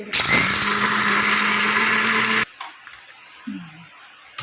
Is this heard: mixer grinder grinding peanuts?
yes